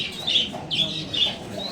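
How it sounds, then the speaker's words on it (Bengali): Soft repeated pigeon coos, three or four rising calls in a slow rhythm, close by over a low background hum. "এটা কিং কবুতর"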